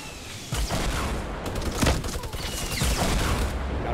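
Rocket fire and explosions rumble through a Fortnite Battle Royale match, a dense barrage of booms and bursts with several heavier blasts, loud and continuous, with faint talk mixed in.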